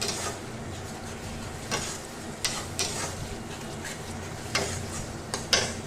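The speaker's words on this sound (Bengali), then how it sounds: "আমি তিন চামচ মতো টক দই দিয়ে এবার মশলাটাকে ভালো করে কষিয়ে নেবো" A spice paste with yogurt being sautéed in a pan for shahi chicken keema, a constant sizzle with repeated sharp spatula clicks and scrapes at irregular intervals, close, with no talking.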